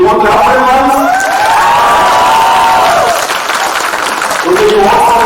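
A school team's audience at an Indian Army national quiz semi-final claps and cheers loudly and continuously, with excited voices and shouting over the steady clapping, dipping slightly midway before swelling again.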